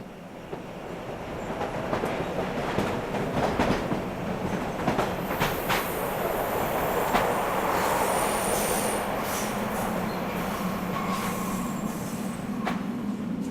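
A train rolling on rails in a video game, a steady close rumble of wheels with faint squeals and clicks throughout, loud and constant with no talking.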